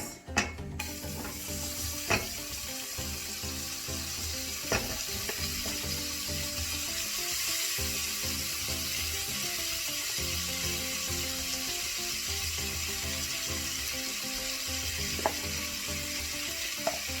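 Carrots fry in melted butter in a pan, a steady close sizzle running throughout with occasional sharp clicks and utensil taps, no talking.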